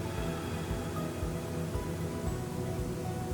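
Breath blown out during a breathing exercise, a continuous close, noisy rush of air held for several seconds, alone without talk.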